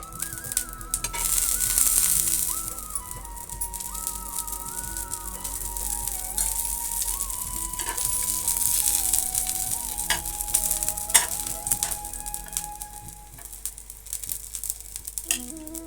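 Corn bread frying in oil in a pan over a low flame gives a steady close sizzle and crackle that runs throughout, with faint clinks and a few sharper pops; no one speaks.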